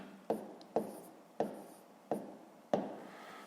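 Pen writing numbers on paper during a fifth-grade math exercise: five quiet, sharp strokes spaced about half a second apart, each a brief scratch fading quickly, close and alone with no talking.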